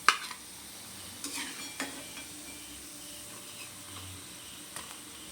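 Onion pakoras fry in hot oil, giving a soft, steady sizzle with a few light scrapes and clinks of a stirring utensil against the pan. No one speaks.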